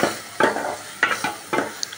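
Ingredients for stuffed eggplant curry sizzle in a hot pan while being stirred, with three distinct scraping strokes over a steady low fry, close and fairly quiet.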